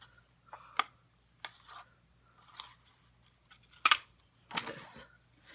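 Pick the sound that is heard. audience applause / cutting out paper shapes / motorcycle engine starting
cutting out paper shapes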